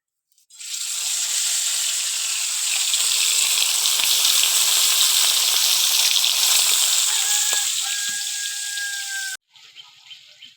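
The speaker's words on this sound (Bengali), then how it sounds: "মাছটা ভাজা হয়ে গেছে" Shol (snakehead) fish pieces fry in a pan with a loud, steady, hissing sizzle that starts suddenly, holds for about nine seconds, then cuts off sharply into quiet.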